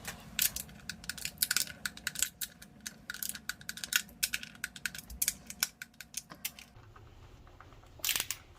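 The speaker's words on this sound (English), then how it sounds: "I always run my torque wrench all the way down to the bottom so that I don't miss anything" A torque wrench ratchets down the valve cover bolts on a Chevy Cruze 1.4L engine, giving dense bursts of fast metallic clicking with short pauses between bolts, close and crisp, ending in a quieter stretch and a final brief burst.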